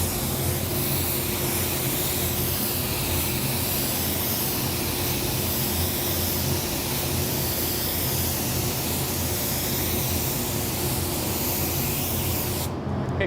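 A spray gun spraying white automotive sealer hisses steadily and loudly for the whole stretch, a broad continuous airy roar with a low mechanical hum underneath.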